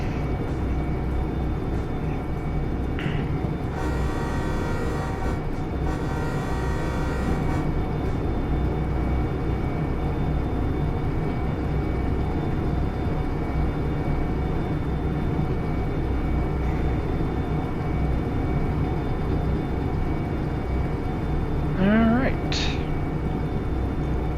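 Locomotive engine running steadily in the Derail Valley train game, a pair of DE6 diesel locomotives working at low notch, a constant loud rumble throughout with a brief rising tone near the end.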